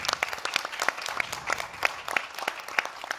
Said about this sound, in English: Big round of applause for Takira for amazing video